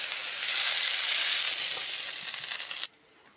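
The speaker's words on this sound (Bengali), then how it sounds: "ফুলকপি আলুটা একটু ভেজে নিয়েছি, মানে সেদ্ধ করা ছিল তবুও একটু ভেজে নিয়েছি, ভাজা হয়ে গেছে, এবার আমি নামিয়ে নিচ্ছি।" Boiled cauliflower and potato fry in a pan with a loud, close sizzle that stays steady and then cuts off abruptly near the end, leaving near-silence.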